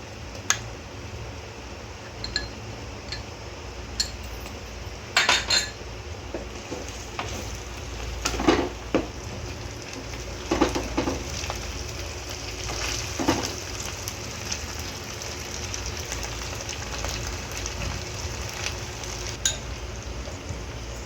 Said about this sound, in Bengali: ভালো করে পেঁয়াজ ক্যাপসিকাম এগুলো একটু ভেজে নেব